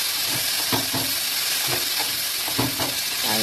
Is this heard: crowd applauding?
no